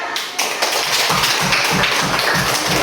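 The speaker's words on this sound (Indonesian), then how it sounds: "Kasih tepuk tangan untuk kita semua." Children and a teacher in a third-grade classroom clap together, first a brief scattered patter and then a loud, steady rhythmic beat of unison claps, close and continuous throughout.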